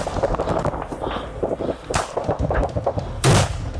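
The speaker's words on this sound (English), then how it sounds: "Sarah, throw grenades in their trenches. Throw grenades at them." Grenades explode in enemy trenches during a frontline assault, heavy thuds and cracks mixed with ongoing gunfire, the loudest burst coming near the end amid dense, chaotic battlefield noise.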